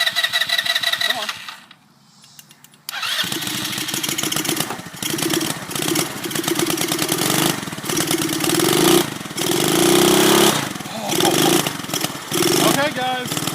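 Go-kart engine idling and revving as it tries to spin its tires, loud and close, with choppy throttle bursts after a brief cut-out, and people talking over it.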